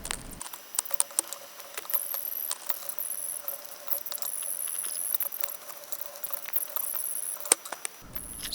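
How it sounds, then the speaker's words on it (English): Rapid, dense clicking of keys on a computer keyboard, continuous and sped up into a fast patter, close and fairly steady throughout. "I'll just let you listen to a sped up version of me typing in input data"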